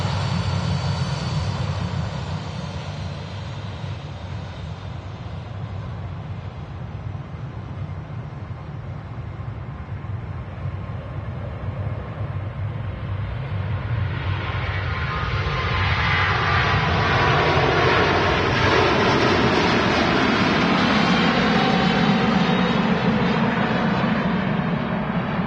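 Singapore Airlines jet on its takeoff roll at Manchester Airport, a loud, continuous engine roar that swells and brightens as thrust builds, rising in pitch and intensity over the run with no talk over it.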